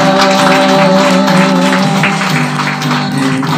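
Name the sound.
congregation loud applause in worship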